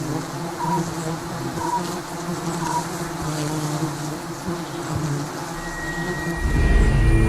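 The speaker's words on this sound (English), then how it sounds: "These giant stinging honeybees have been known to attack anything that's perceived as dangerous to their queen" A swarm of giant stinging honeybees in Sri Lanka, the Asian honeybee, hums in a thick, continuous buzz, rising louder toward the end, with no voices.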